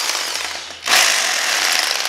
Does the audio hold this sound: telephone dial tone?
no